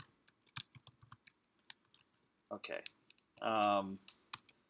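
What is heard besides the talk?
typing an equation on a computer keyboard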